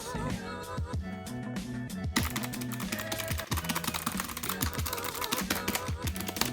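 Someone types rapidly on a Logitech G915 Lightsync clicky wireless mechanical keyboard, producing dense, sharp clicking in an irregular burst, with music playing underneath.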